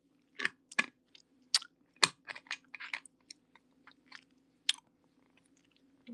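Food is chewed close to the microphone, giving scattered crisp, crunchy clicks and smacks in irregular bursts over a faint, steady low hum.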